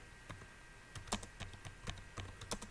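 Code for a C programming lecture is typed on a computer keyboard: irregular clusters of crisp keystrokes, close and fairly quiet, with no talking.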